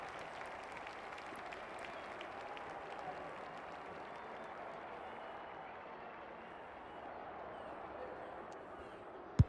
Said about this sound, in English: they crowd noises are very subtle, aren't they, Super?